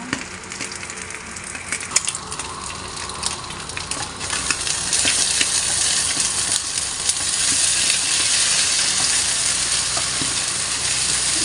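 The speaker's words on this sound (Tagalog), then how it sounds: "Yan o, oh, yung kumukulo. Yan. Yan na yung mantika." Steady, loud sizzling of oil frying in a pan, a continuous crackling hiss with occasional pops, no voices.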